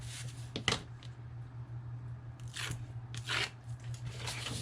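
Scissors trim decorative craft paper in a few quick, crisp snips and crunchy cuts, close and fairly quiet over a low steady hum.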